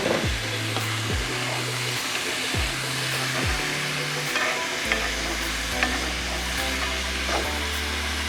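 Cheesy bacon potato soup is stirred in a pot on an induction cooktop: a spoon scrapes and swishes in repeated strokes over a steady electronic hum that shifts between pitches and then drops lower.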